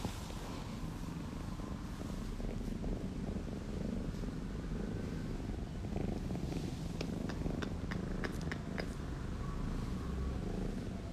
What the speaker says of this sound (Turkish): Kurban olurum o gurultuna.